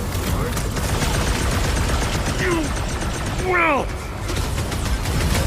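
Gunfire in Marvel's Guardians of the Galaxy game combat, a steady barrage of shots running under loud battle effects, with a few rising whooshing effects and a voice speaking briefly.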